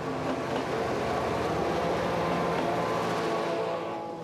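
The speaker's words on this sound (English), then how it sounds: "the Class 16 needs some rear-end assistance for the steep climb out of Liège-Guillemin station" A Class 16 locomotive, with a Class 55 banking loco assisting, climbs steeply out of Liège-Guillemin station, a steady heavy rumble and rail roar that fades slightly at the end.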